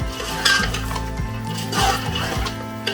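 A utensil scrapes and clanks against a metal pot in repeated stirring strokes, with a soft sizzle of spices and garam masala frying underneath, close up.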